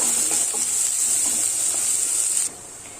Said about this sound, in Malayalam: ഒരു സവാള പൊടിയായിട്ട് അരിഞ്ഞു വെച്ചിട്ടുണ്ട്, ഇത് ചേർത്ത് കൊടുക്കാം. ഇതൊന്ന് വഴറ്റി കൊടുക്കുക.